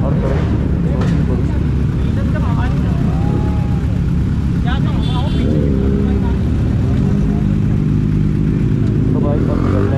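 Motorcycle engines drone steadily nearby, a dense rumble of over a hundred bikes including Kawasaki ZX-10Rs and Z900s, with people talking and shouting over the traffic noise.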